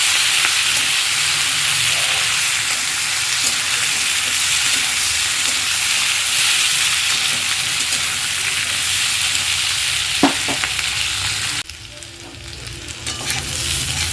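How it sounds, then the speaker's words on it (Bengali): Potato, radish and spring onion fry in hot oil, giving a loud, close, continuous sizzle with stirring scrapes throughout, easing somewhat near the end, and no talking. "তো দেখো আমি দিয়ে দিচ্ছি আলু, মূলো আর পেঁয়াজ কলি। খুব ভালো করে ভেজে নেব।"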